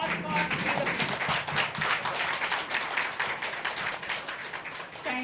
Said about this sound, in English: so I would just invite you to please join me in a big applause for we the people